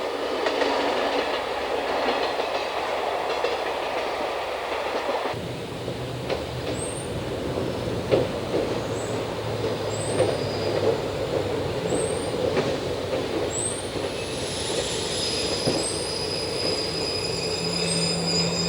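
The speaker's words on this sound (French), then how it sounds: "4500 s'engage maintenant sur la ligne de la Brévenne vers Saint-Bel, à 5 km d'ici." An SNCF X 4500 Caravelle diesel railcar runs along the Brévenne line toward Saint-Bel, its engine rumbling steadily up close with clattering wheels and rail noise, plus a series of high, brief wheel squeals repeating through the second half.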